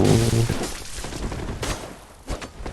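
Enemy gunshots in the dark action game Bloodborne: a few sharp blasts scattered among lingering rumble, moderately loud, with no speech.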